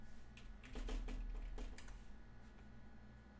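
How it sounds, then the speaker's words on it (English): Typing on a computer keyboard at close range, a quick burst of clustered key clicks followed by a few scattered taps over a steady low room hum. "Look, you see what I'm typing in?"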